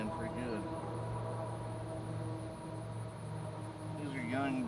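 A steady, low buzz of young bees hums throughout in a greenhouse of paste tomatoes, with a few louder, nearby buzzing passes.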